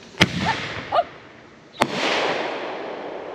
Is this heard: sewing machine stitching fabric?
no